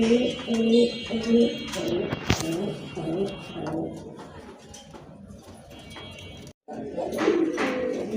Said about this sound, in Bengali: এখানে কিন্তু আরেক জোড়া কবুতর দেখছেন